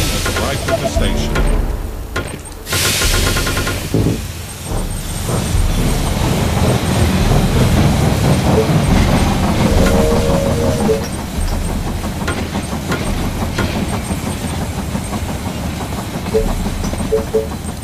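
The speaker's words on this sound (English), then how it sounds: "The train has arrived at the station." A train pulls into a station in the strategy game They Are Billions on PS4, with a steady rumbling rail and engine drone, clattering wheels and a sharp hiss early on, continuing loud throughout.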